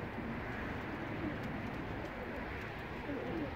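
Pigeons in a coop coo softly and continuously, a low, murmuring warble that stays quiet and steady throughout, with no speech over it.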